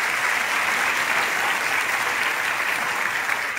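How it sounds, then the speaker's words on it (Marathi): Sustained, dense applause from a school event audience praising the local police department, steady and loud throughout with no voices over it. "आपल्या पोलीस डिपार्टमेंटसाठी जोरदार टाळ्या वाजवायला पाहिजे"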